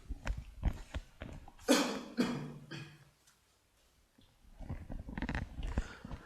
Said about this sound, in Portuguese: Desculpem, tossindo.